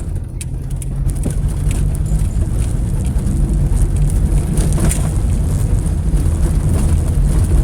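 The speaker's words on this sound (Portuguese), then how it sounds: "Mas o carro hesita em andar." A car running on adulterated fuel, fitted with MegaSquirt injection, drones steadily with a low, continuous engine rumble throughout, with no talk over it.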